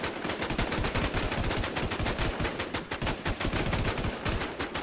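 Gunfire in a video game rattles as steady, rapid automatic shots that fill the whole stretch. The shots are loud, dense and continuous, with no speech.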